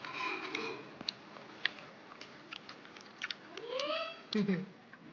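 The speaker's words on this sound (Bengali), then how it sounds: "আমরা সবাই মিলে বসে বসে প্রসাদ খাচ্ছি" People sit together eating prasad after a Laxmi Puja, with soft, irregular chewing and crunching close by, small clicks and bites scattered through a quiet room, and someone speaking softly between them.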